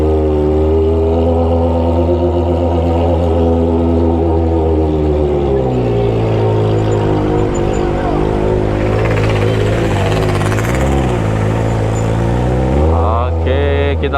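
A Kawasaki ZX25R motorcycle fitted with a Toce aftermarket exhaust idles and revs gently in a busy narrow alley, its loud, close, high-pitched four-cylinder drone rising and falling steadily, with a brief sharper blip near the end.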